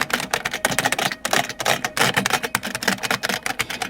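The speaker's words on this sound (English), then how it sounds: "just press the hell out of every single key" Rapid, uneven clatter of keys being hammered one after another on an old IBM PC/XT computer keyboard, a dense stream of sharp mechanical clacks, close and fairly loud with no voices.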